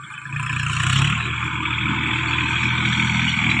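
A tractor's engine runs at a steady mid-pitched drone with a harder surge near the start, holding constant and fairly loud with no talk over it.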